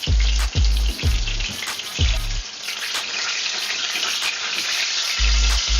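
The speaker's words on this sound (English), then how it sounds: "Now let's turn the other side to be fried." Filipino-style mackerel fries in hot oil in a pan, giving a loud, steady crackling sizzle throughout, broken by several deep low thumps near the start and end.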